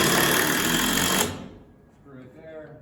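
A cordless screw driver whirs loudly, driving a screw into exterior butt wall framing for about a second, then stops abruptly, leaving quiet room tone and a faint voice.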